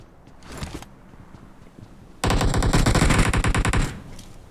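Burst of AKM automatic rifle fire in the BGMI/PUBG mobile battle royale game, a dense rapid string of loud shots lasting over a second after quieter game ambience and a brief earlier sound.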